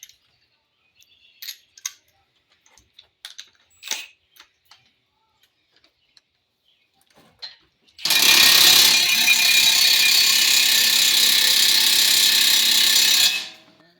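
A Milwaukee impact wrench hammers loose a 22 mm caliper bracket bolt on a 2012 Nissan Quest front wheel hub, a loud steady rattling burst of about five seconds after scattered quiet ticks and clanks of tool handling.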